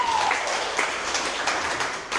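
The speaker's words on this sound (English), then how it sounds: "We give him a round of applause" Brief burst of audience applause as guests come up on stage at a panel talk on decentralized AI, a dense, steady wash of clapping without speech.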